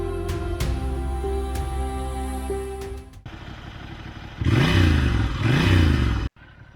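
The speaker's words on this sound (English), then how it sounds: "it makes that distinctive L-twin sound, deep and rumbly" A Ducati Monster 600 with an L-twin engine, first idling with a steady low rumble, then revving hard twice in loud rising bursts before cutting off abruptly, heard up close with no talk.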